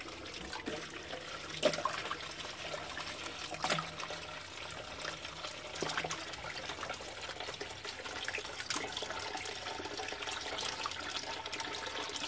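Tap water running steadily into a sink while raw chicken is washed, a continuous trickling splash with occasional sharper knocks and clatters, no voices.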